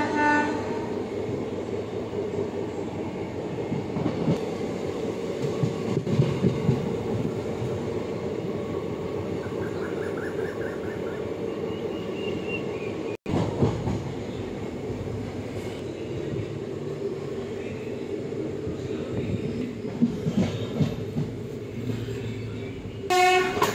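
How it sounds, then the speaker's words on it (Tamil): Passenger train running from Mayiladuthurai to Thanjavur, a continuous rumbling clatter of wheels and carriages heard from on board, with a brief horn blast near the end. "மயிலாடுதுறையிலேருந்து தஞ்சாவூர் வர ட்ரெயினில் ஜேர்னி பண்ணிகிட்ருக்கோம்"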